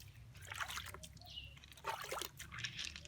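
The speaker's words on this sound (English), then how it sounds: "I would like to pour a little bit of water on it for you to see." Water is poured over handmade Krobo glass beads, producing quiet trickling and splashing in short bursts, faint and close against a low background hum.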